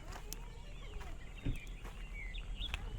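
Birds call in a forest along the Konkan coast, with scattered short chirps and whistles over a soft background rumble and faint speech.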